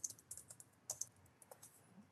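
Fingers tap out a short burst of keystrokes on a computer keyboard while entering C++ code, light clicks of uneven rhythm, close and quiet, with no talk.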